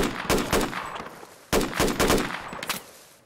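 Close, loud gunshots crack in two rapid clusters in a multiplayer shooter game, each burst of three or four sharp reports followed by a fading echo.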